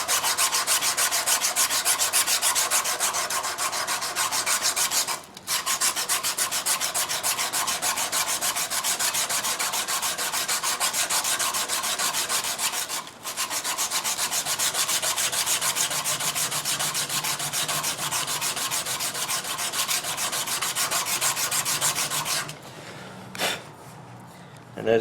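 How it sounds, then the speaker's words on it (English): Coarse sandpaper rubbing steadily along a knife blade from a flint-and-steel knife-making kit, a loud continuous rasping scrape with two brief pauses, ending in a few softer strokes. "This is the roughest sandpaper in the kit."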